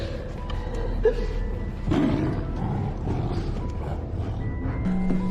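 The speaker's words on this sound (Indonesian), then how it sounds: "terdengarlah suara raungan seekor harimau dari balik pintu" A tiger roars from behind a closed door in a film scene, a loud rumbling growl rising around the middle and held briefly over creaks and a low background rumble.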